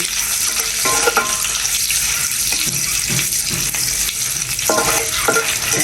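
Sliced onions with turmeric sizzle in a pan, a loud continuous frying hiss close by, with occasional scraping of a spoon stirring through them.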